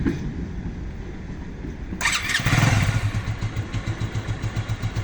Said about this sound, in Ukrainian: Зараз ми вам запустимо цей мотоцикл.